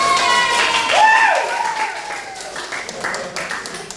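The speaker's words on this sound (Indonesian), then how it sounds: "Kasih tepuk tangan teman-teman kalian." Students in a classroom clap together during a teaching-practice lesson, a dense burst of applause mixed with excited voices and a rising whistle-like cry, fading slightly toward the end.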